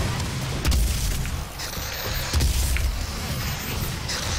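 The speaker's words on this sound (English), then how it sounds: "Gauss cannon in the face." A Gauss cannon fires in Doom 2016 with heavy, booming blasts, a loud close burst followed by another deep impact and rumbling combat noise around them.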